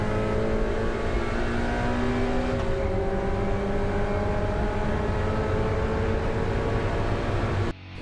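A race car accelerates hard out of the final chicane at Donington Park during a Trackday Trophy race, its engine note loud and close from onboard, climbing in pitch through a gear change before cutting off at the end.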